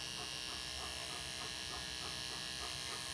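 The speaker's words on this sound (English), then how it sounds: "We turn a clipper on, we're ready to go." A dog hair clipper switched on for pre-trimming Diesel, an unbathed but brushed dog, giving a steady close electric buzz that stays constant throughout.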